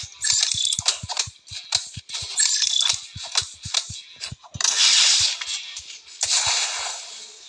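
Rapid bursts of gunfire in a Spider-Man video game, sharp repeated shots in quick clusters with brief pauses, loud and close throughout.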